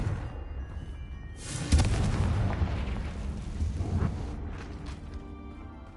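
A Confringo fire spell blasts in Hogwarts Legacy, a sudden booming explosion followed by a rumbling, crackling roar that swells again briefly before fading over a low game soundscape.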